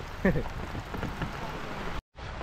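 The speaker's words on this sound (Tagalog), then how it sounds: "Kana umuulan." Steady rain patters on a surface with a dense hiss, while a voice speaks briefly under it before a sudden short cut.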